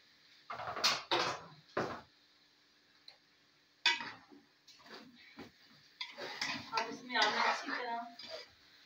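Strained rice is tipped into a pot of jaggery syrup and stirred, with scattered metallic scrapes, clinks and a spoon knocking against the pot, close and moderately loud.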